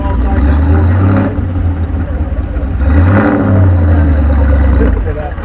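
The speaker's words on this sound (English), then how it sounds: "got the proper baffle exhaust on that car" A car engine revs loudly close by through a baffle exhaust, rising and falling twice with a deep, throaty note, with a voice faintly underneath.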